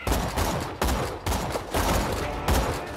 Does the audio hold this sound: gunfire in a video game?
yes